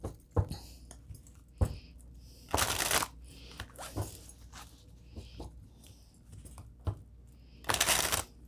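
Tarot cards are shuffled in several separate loud riffling bursts, close and crisp, with quiet soft handling sounds and pauses between bursts.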